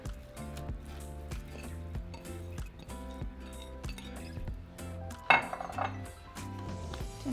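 Meat filling for birria tamales is stirred in a pot, bringing repeated light clinks and scrapes of a utensil against metal in an uneven rhythm, close and fairly quiet, with one louder clatter near the end.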